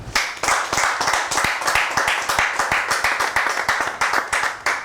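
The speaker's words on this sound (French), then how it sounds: "je demande encore qu'on applaudisse pour elle" An audience at a semi-final episode of a televised makeup talent competition claps for a contestant in dense, rhythmic applause, loud and close, with no talk over it.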